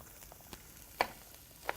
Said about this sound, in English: Nice little sizzle going on.